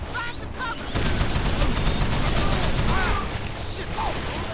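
AK rifle fire in Call of Juarez: The Cartel, dense rapid automatic bursts and crackling shots forming a continuous barrage, with voices shouting faintly in the mix.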